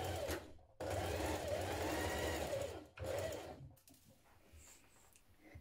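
A domestic sewing machine basting down the edge of dress fabric, running in three loud bursts: a short one, a long steady whir of about two seconds, then a brief final run before it stops.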